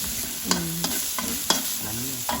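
Repeated scraping and stirring of Thai curry paste in a pan with a steady sizzle underneath, with sharp clicks of a utensil against the pan at irregular intervals.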